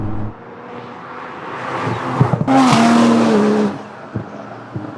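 A car being driven gives a rising engine note, then a loud burst with sharp exhaust snaps and crackles before the sound drops back to a low idle rumble.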